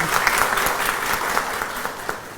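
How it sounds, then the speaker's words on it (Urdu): An audience at a grand ceremony for a social media workshop claps loudly in sustained applause, dense and steady with a few sharper claps standing out. "تو یہ سب تالیاں آپ کی بتا رہی ہیں کہ آپ اس کو پروگرام کو انجوائے کر رہے ہیں۔"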